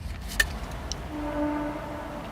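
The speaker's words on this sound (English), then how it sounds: "That's just a train." A distant train at night in a forest, a faint sustained horn tone rising out of low rumble about halfway through, preceded by a couple of small sharp knocks nearby.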